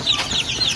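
A native Filipino hen clucks in a quick, short run of nasal calls, close by and moderately loud.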